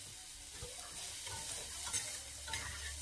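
Garlic fries in a hot pan with a soft, steady sizzle and occasional stirring scrapes, faint and close, with no voices.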